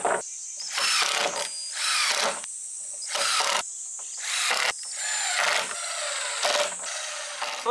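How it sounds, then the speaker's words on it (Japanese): A cordless impact driver runs in repeated bursts, each a loud rattling whir lasting about a second, separated by short pauses, close to the listener. "インパクトドライバーは本当に重宝しました"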